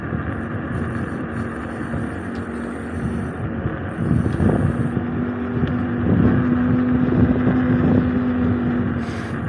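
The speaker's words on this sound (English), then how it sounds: "I'm full throttle right now in eco mode" An isinwheel GT2 electric scooter riding at full throttle in eco mode up a hill, with a steady whirring motor and loud wind buffeting the microphone that swells as speed picks up.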